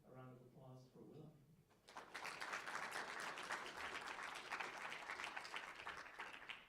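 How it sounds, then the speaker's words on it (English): Conference audience breaks into applause for a presenter, steady clapping from a large room that fills most of the clip after a short spoken introduction. "So let's give a round of applause for Willa."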